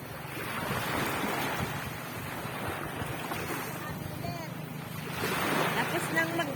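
Sea waves washing onto a beach on a morning outing, a steady broad rush with wind buffeting the microphone and swelling louder near the end, with a faint voice in the background.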